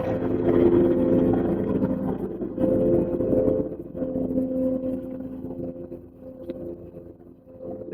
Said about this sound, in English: Then you hit the pump switch right here. What I do is I bump up the idle